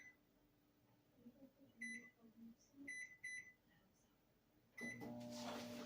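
A microwave oven heats a dish of homemade corn pudding. Quiet kitchen sounds and a few soft beeps come first, then the microwave starts running with a steady loud hum.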